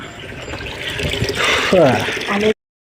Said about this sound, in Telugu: నీళ్ళు పడుతున్నాను ఇప్పుడు మళ్ళీ ఇంకోసారి క్లీన్ చేయాలి